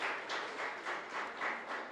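Congregation at an evangelical church worship service clapping together, a faint, steady wash of many hands with gentle rhythmic swells, heard from some distance.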